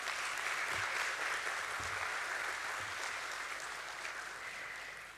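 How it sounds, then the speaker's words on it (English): Steady applause from an audience at a stock exchange listing ceremony for Borosil Scientific Limited at BSE, a dense crowd clapping continuously for several seconds at moderate distance, with a few low thumps beneath and no talk over it. "Let's begin this beautiful morning with a huge round of applause,"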